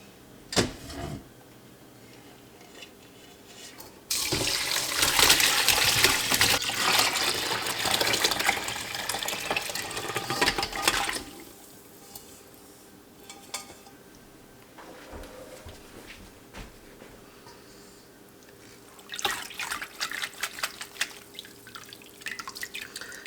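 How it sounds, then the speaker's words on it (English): Homemade chicken bone broth poured from an Instant Pot through a fine mesh colander into a big bowl, a loud rushing gush of liquid for several seconds, then dripping and a second shorter splash of pouring. "I'm just gonna dump it and strain it through."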